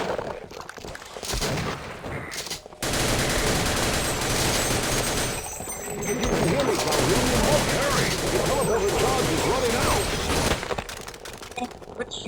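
Rapid video-game gunfire rattles through a busy sci-fi battle in Sven Co-op, dense overlapping shots mixed with game effects and voice lines over a continuous loud bed.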